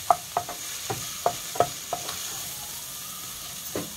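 Grated carrots stir-fried in a pan for lemon prawn soup, with a soft steady sizzle broken by sharp scraping taps of a utensil against the pan at irregular intervals, close and without talk.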